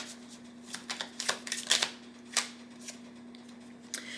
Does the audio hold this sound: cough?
no